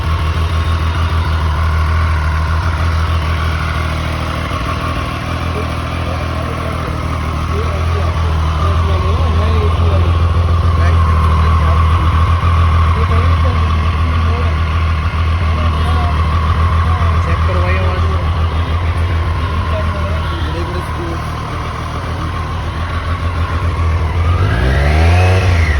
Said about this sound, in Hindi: अभी एक बार आप अपनी ट्रायम्फ की आवाज़ सुनो